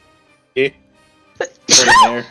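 A single sharp sneeze bursts out briefly, followed by nearby conversational speech as people keep talking at a tabletop game session.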